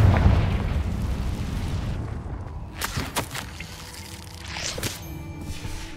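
A Confringo spell blast in Hogwarts Legacy, a heavy rumbling boom that rolls and decays over several seconds, followed by smaller crackling bursts and magical shimmer.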